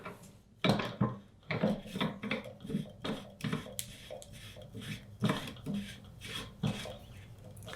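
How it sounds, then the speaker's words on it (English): An OSS HX QD 762 suppressor is threaded by hand onto the muzzle taper of a Heckler & Koch M110 A1 rifle, giving a series of close metallic scraping and rasping turns with short pauses between them. "As you thread it on, the suppressor backs into the taper as you thread it."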